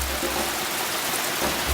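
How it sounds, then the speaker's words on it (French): Rain pouring outdoors at night, a steady broadband hiss of drops with low rumbling gusts, fairly loud and continuous with no talking. "le bruit de la pluie. Voilà, ça pleut pas mal"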